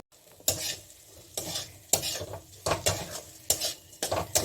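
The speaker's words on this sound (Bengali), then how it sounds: "এটাকে আমি ভেজে নিচ্ছি মশলার সঙ্গে" Gobindobhog rice coated in ghee is stirred and fried with spices in a metal pot, giving repeated loud scraping strokes roughly once a second over a soft sizzle, close up and without talk.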